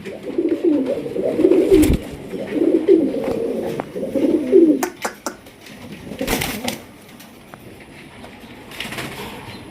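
A pair of large black Sirazi fancy pigeons cooing, with repeated low, rolling coos close by for several seconds, then fading into scattered faint thumps and rustling.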